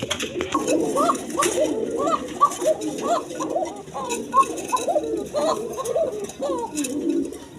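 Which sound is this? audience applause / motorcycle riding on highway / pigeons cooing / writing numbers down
pigeons cooing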